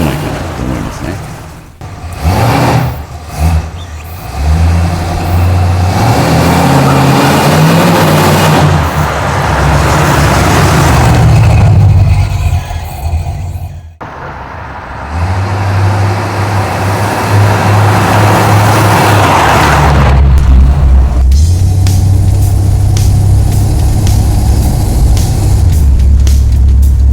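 A 1970 Dodge Charger S/E R/T with a 440 V8 accelerating hard, loud throaty engine roar rising in bursts with a short dip midway, heard from inside the car.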